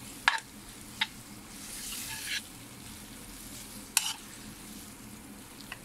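Rice noodles are stirred with egg bhurji in a pan: a few sharp spatula taps and scrapes over a faint, steady sizzle, with no voices.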